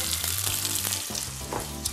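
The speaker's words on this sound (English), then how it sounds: "And back into the pan, just to sizzle" Vegetables sizzle and crackle loudly in a hot pan, with a steady hiss broken by occasional stirring scrapes.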